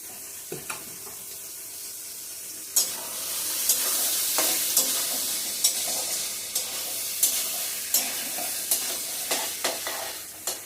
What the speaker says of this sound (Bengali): জলটা ঝরিয়ে দেব, দিয়ে একটু মশলাটার সাথে কষিয়ে নেব ভালো করে